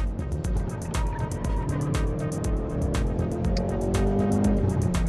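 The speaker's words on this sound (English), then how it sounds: "We're hitting on average about 140 down the main straight here as we approach the first corner." A Hyundai i30N is driven hard down a race track straight at around 140. Its engine note hums steadily and climbs gradually, with road and wind noise close by throughout.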